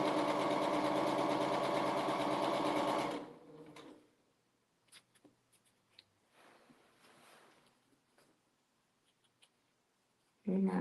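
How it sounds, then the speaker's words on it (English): A sewing machine chain pieces quilt blocks in a fast continuous whir for about three seconds, then stops, leaving faint clicks and handling noises before a short burst restarts at the end. "Now I'm going to sew these together."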